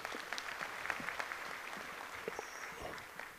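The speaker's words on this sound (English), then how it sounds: "Good round, big round of applause for him." An audience at a professional architects' gathering applauding a senior member, a faint, even patter of clapping heard from some distance.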